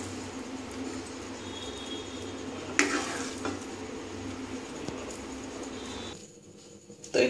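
Sago khichuri scraped from a wok into a bowl, soft metallic scrapes and a sharp clatter partway through over low kitchen hiss, then a near-silent pause and a final knock.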